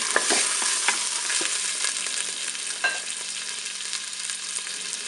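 A pork roast sizzles steadily as it browns in the bowl of a Cookeo multicooker, with a loud, continuous fry and a few soft stirring scrapes, and no voices.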